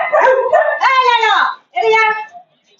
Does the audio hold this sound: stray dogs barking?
yes